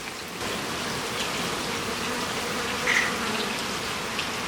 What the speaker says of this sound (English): the bees are all over it